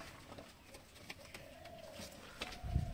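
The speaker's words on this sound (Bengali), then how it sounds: "আর এটা একটা নতুন নর পায়রা আছে," A young male pigeon among a small flock in a loft gives repeated low cooing calls, with soft rustling and a brief thump of movement near the end.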